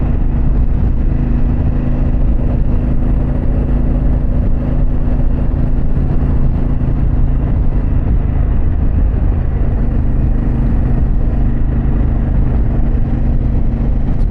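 A Harley-Davidson Pan America motorcycle fitted with a Vance Hines exhaust, ridden along the Jersey Shore: a loud, steady engine drone with a deep rumble and wind noise throughout, and no talking.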